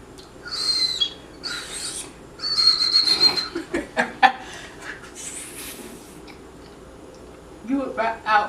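Someone blows through a piece of Japanese whistle candy held in the mouth, producing several short, breathy high whistles in bursts with pauses, close up, with talking in between.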